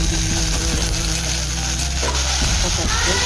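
Mustard seeds crackle in hot oil with a close, busy sizzle. Faint scraping and light clatter run through it, and no one speaks.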